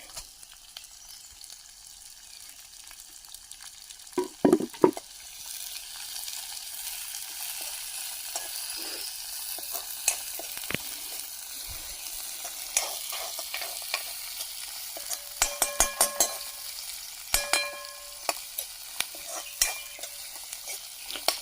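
Onion and capsicum stir-fried in a kadai over an outdoor cooking fire in the forest, with a constant sizzle punctuated by sharp metal spatula scrapes and clinks against the pan.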